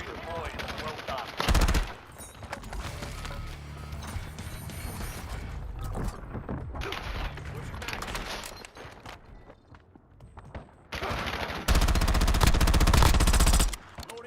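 Video game gunfire crackles in rapid automatic bursts, loud and close, with brief pauses between volleys and heavier blasts near the start and end, amid other game sounds.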